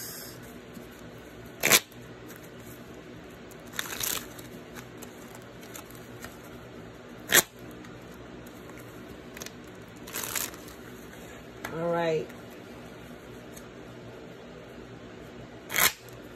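Tarot cards are shuffled in short, irregular bursts of riffling and sharp taps, spaced apart over a quiet background with no talking.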